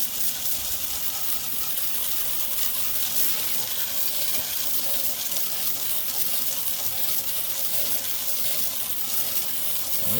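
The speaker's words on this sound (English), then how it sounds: "we got the hose, so she's going to rinse the stuff off" A garden hose sprays steadily to rinse cleaner off a wooden grill, a continuous broadband hiss and splash of running water that holds for the whole stretch with no talk.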